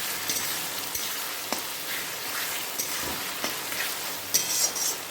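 Spices and a large portion of onion paste fry over medium heat for a jackfruit curry, giving a continuous close sizzle with occasional sharp spoon taps and scraping against the pan.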